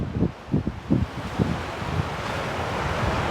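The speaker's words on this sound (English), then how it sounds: "Super windy today." Wind gusts buffet the microphone at the beach in several thumping bursts, then settle into a steady rushing roar, like a blustery day by the shore.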